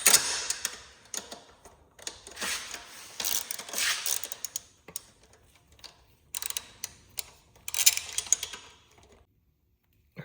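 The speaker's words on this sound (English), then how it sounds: "I'm gonna remove the brackets now." Brackets being unbolted from the emissions canister of a Kawasaki KLX300SM motorcycle: irregular metallic ticks, clicks and ratcheting bursts of handwork, close and moderately loud, with brief quiet gaps and no talking.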